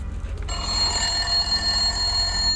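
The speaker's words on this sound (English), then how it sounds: "an old telephone that was stored in a piece of luggage became active again" An old unplugged telephone stored in luggage rings with a sustained metallic bell tone that starts about half a second in and holds steadily over a low hum and room noise.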